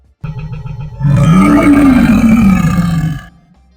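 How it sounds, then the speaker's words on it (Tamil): A cartoon lion, king of the forest, lets out a loud, close roar that opens with a short growling lead-in, then swells into a long, sustained bellow before cutting off. "ஒரு காலத்தில் கானகத்தின் ராஜாவாக கர்ஜித்துக் கொண்டிருந்தது மகாபலி என்ற சிங்கம்"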